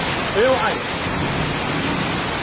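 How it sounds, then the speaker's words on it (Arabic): Heavy rain in Wasit province hisses as a dense, steady wash of noise, loud and constant throughout, with a brief voice heard near the start. "تمطر مطر كلش قوي شد"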